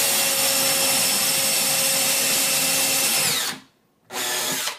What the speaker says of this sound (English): Now that I've drilled my two holes,